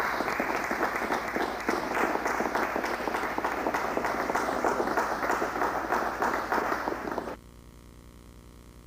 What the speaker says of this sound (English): I think everybody should give Colonel Jenrette a round of applause